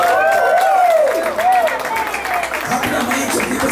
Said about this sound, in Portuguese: Aí vamos aplaudir isso.